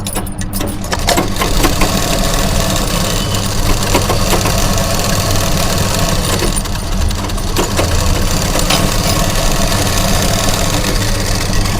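A sewing machine runs double stitching on a lining blouse with a loud, unbroken motor hum and rapid needle chatter. It drones steadily and close for the whole stretch, with no pauses.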